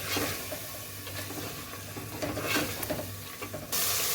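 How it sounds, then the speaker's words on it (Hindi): Mince and green beans fry in a pan over a medium flame, giving a soft continuous sizzle with occasional stirring scrapes, close and quiet, with no talking. "अब यहाँ पे इसको मीडियम फ्लेम करके इसको अच्छी तरह भूनना है।"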